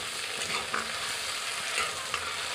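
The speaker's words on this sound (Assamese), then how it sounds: "এইখিনি ভালদৰে অলপ ৰঙচুৱা হোৱালৈকে অলপ সময় ভাজি দিম" Onions and tomatoes fry in a pan, giving a steady close sizzle throughout with a few brief scraping stir sounds.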